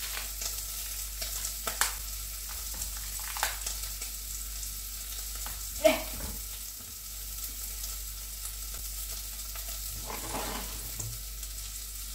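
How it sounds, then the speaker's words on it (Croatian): Sausage frying in a pan on a home stove gives a steady low sizzle with scattered soft pops and a few light utensil clatters, heard close and alone without talk. "gdje mi je kobasica, jer već ona počela da se prži"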